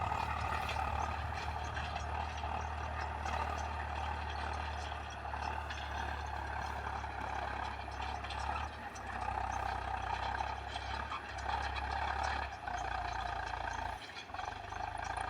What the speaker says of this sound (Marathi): जगह पर टायर फिरा रहा है ट्रैक्टर।